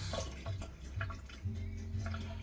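Tap water runs and splashes while a spoon is washed in a kitchen sink, a soft, close trickle with small clinks and drips, no voices.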